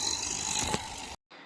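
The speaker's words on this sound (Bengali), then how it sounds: "একদিকে মেশিন এগিয়ে যাচ্ছে, অন্যদিকে ঘাস কাটা জায়গা ধীরে ধীরে পরিষ্কার হয়ে যাচ্ছে।" Grass cutting machine mowing a large open field, giving a steady mechanical engine drone with a brief rattle near the middle before a sudden cut to near silence and a quieter resumption.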